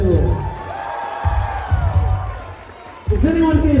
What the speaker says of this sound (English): Yourselves a big round of applause